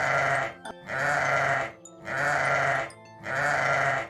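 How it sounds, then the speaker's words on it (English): A sheep bleats four times in a steady rhythm, each call a long, loud, nasal 'baa' separated by short pauses, heard close and alone. "sheep,"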